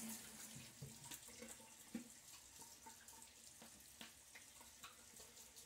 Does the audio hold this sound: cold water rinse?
yes